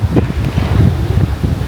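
Wind buffets the microphone in a steady, rumbling roar throughout a Maokong Gondola cable car ride in Taipei, with no talking.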